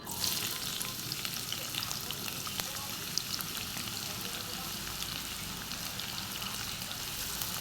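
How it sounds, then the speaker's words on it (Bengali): Onions fry in oil in a pan on a stove, a steady close crackling sizzle with light stirring that holds evenly throughout, with faint voices underneath. "এবার কিন্তু আমি চুলার উপরে তেল দিচ্ছি, একটু পেঁয়াজ ভেজে নেব"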